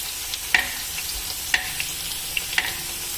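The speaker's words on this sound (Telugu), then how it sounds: "సో ఇలా ఒకటి చూసుకుంటూ డీప్ ఫ్రై చేస్తున్నాను ఆయిల్లో" Bitter gourd slices deep-fry in oil with a close, continuous crackling hiss, broken by a few sharp clicks as the pieces are turned.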